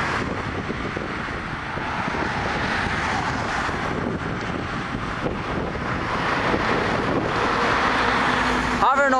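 A Boeing 737-200 over the runway at Toronto Pearson produces a continuous, broad jet-engine roar that slowly swells, with wind buffeting the microphone and voices talking near the end.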